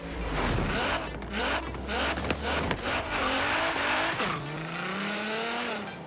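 Nissan GT-R in the Forza Horizon 3 racing game, drifting at night in all-wheel drive, with a loud revving engine and bursts of tire squeal, continuous and close through the whole stretch.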